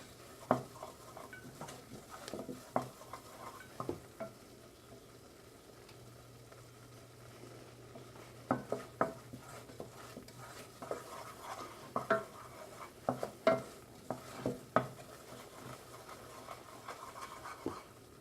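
Roux being stirred in a pan for a seafood dish, faint scraping strokes and soft knocks of a utensil against the pan in irregular bursts over a quiet low hum.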